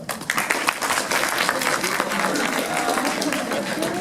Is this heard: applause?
yes